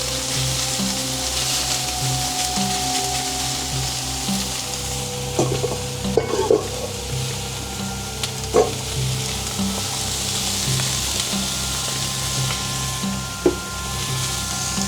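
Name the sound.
searing beef in a hot frying pan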